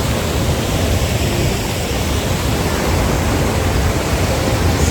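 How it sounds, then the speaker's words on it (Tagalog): Tuasan Falls on Camiguin Island in the Philippines roars as a loud, steady broadband wash of falling water, close and unbroken throughout with no other sounds. "So, ayan yung Tuasan Falls"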